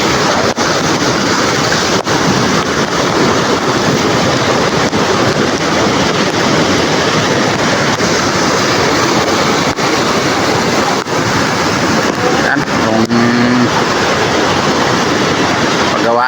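Rough sea waves during Typhoon Emong roar in a dense, continuous wash, loud and close, with heavy wind buffeting the microphone throughout.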